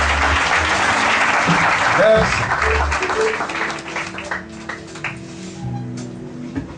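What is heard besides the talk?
church congregation applauding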